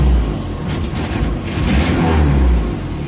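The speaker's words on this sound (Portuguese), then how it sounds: "Vou funcionar o carro." A GM Caravan's engine runs close by with a loud, rough mid-range roar and uneven low rumble that swells and eases slightly, with no voices.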